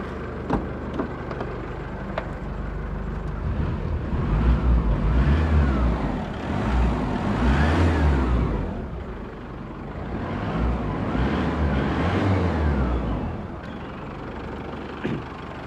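An Isuzu D-Max 2.5 pickup truck engine runs steadily near by, a low diesel rumble that rises and falls in slow surges, with no voices over it.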